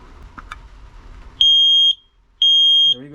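A carbon monoxide alarm on a Jeanneau 795 boat sounds during a test, two loud, piercing electronic beeps of about half a second each, separated by a short gap, after faint handling noise.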